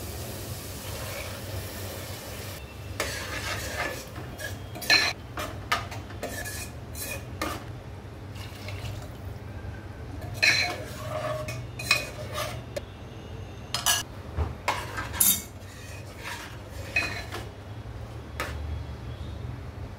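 Black peas being stirred into masala in a metal pan, with repeated scraping clinks of a spoon against the pan over a low steady sizzle, close and fairly loud, no talking.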